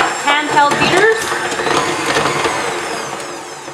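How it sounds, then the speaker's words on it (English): Handheld electric beaters cream butter in a bowl, giving a loud, steady whirring buzz close by. A voice is heard near the start. "If you don't have a stand mixer, you can of course use your handheld beaters."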